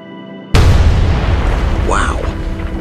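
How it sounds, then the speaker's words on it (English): After near silence, a soda can bursts from a coil-of-wire electrical discharge in one sudden, very loud boom that rings and decays slowly, and a brief voice cries out during the tail. "How on earth did a coil of wire and some electricity tear a metal can in half?"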